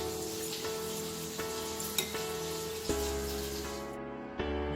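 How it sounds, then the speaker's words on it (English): Three red dry chilies frying in a tablespoon of sesame oil, a soft, steady sizzle with a few light ticks and stirring clinks, close and unbroken throughout. "Fry 3 red dry chilies in 1 tablespoon of sesame oil"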